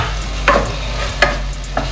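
An onion, tomato and green chilli tadka sizzles steadily in a hot pan, with about four louder scraping strokes as a spoon stirs it, close and clear over a low hum.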